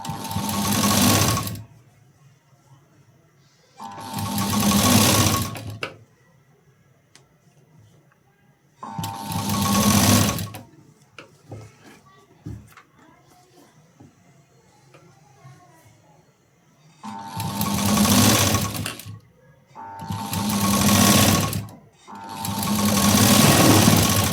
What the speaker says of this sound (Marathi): डबल शिलाई देऊन